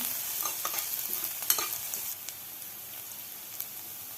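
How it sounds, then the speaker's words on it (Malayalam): Finely chopped onion and green chillies sizzle gently in a pan for a green gram curry, with a handful of quick scrapes and taps from a stirring spoon early on before the frying settles into a faint, even hiss. "ഒരു വലിയ ഉള്ളി നൈസായി അരിഞ്ഞത് ഇട്ട് കൊടുത്ത് നാല് പച്ചമുളക് അരിഞ്ഞത് ഇട്ട് കൊടുത്ത് ഒന്ന് ഇളക്കി കൊടുക്കുക"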